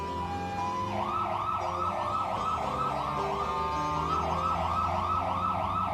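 A real ambulance siren in a low-budget movie wails in repeated up-and-down sweeps, loud and steady over a dense rumbling soundtrack, with no talk.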